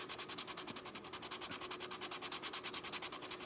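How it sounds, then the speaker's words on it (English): Hand sanding of a leather edge with low-grit sandpaper, quiet and close, in steady rhythmic back-and-forth rasping strokes, about four per second. "So I'm gonna take this lower grit sandpaper and I'm just gonna kind of even this out."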